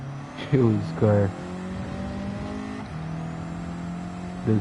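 A race car engine in Gran Turismo 7, heard during an online lobby race, drones steadily at high revs with a few sharp throttle blips and rising surges near the start and again at the end.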